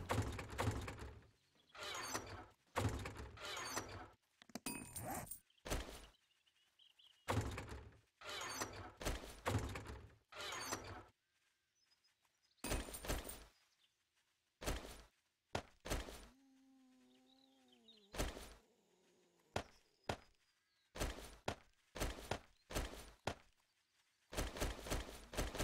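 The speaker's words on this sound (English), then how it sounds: "Almost sounds like we have zombies up top." Heavy thumps and knocking bursts, like zombies moving overhead in the video game 7 Days to Die, come in irregular clusters with short silences between and a brief tonal mechanical whine partway through.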